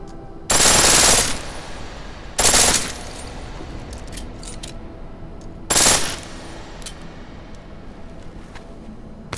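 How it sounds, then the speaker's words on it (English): Pistol fire on full auto in the Deus Ex video game: three loud, rapid bursts, each lasting a fraction of a second to about half a second, spaced apart with quieter background ambience between them. "The pistol in full auto will take down targets fast, but it'll burn through your ammo."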